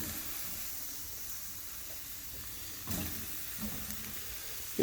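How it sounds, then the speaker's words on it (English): Steak searing over a charcoal grill on a farm, a soft, even hiss of sizzling meat with a few faint pops and knocks, fairly quiet and free of talk. "Get those searing"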